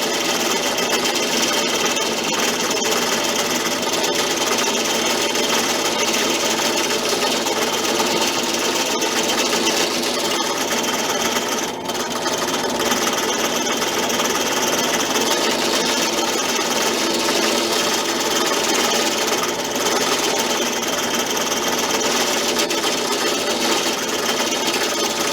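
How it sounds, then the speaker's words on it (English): A steady mechanical whir of a drill press runs continuously at an even pitch, with faint scraping as leather holster edges are smoothed against it. "I go to the drill press and start smoothing it up"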